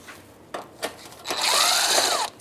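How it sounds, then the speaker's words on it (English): An 8 mm socket tool backs out a fender bolt on a 2008–13 Mazda 3, with two quick close clicks followed by about a second of steady whirring. "Now we're going to take this bolt out so that the fender actually can just pop out"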